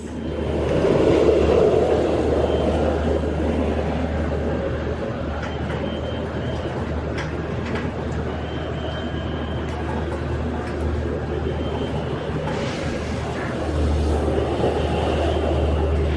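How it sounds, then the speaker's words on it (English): A steady mechanical rumble of a roller coaster train rolling onto a transfer track at SeaWorld, with occasional clanks and hisses, fairly loud and sustained. "they have already moved the next train onto the transfer track"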